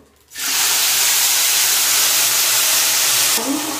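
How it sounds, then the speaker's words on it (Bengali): Cabbage dropped into a hot pan of oil tempered with bay leaf, cumin and turmeric, setting off a sudden loud, dense sizzle and steam hiss that holds steady close by. "বাঁধাকপিগুলো দিয়ে দেবো।"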